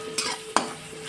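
Onion frying on low flame in a pan for Hakka noodles, a faint background sizzle broken by two quick stirring scrapes close by.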